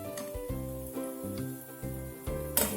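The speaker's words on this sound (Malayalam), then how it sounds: "ഗ്യാസിൻ്റെ സ്റ്റൗ നല്ല ലോ ഫ്ലെയിമിൽ വെച്ചിട്ട് ഇത് ഫ്രൈ ചെയ്യാവും" Paneer jilebi frying in oil over a low gas flame, a steady soft sizzle broken by a few knocks and clinks from a utensil.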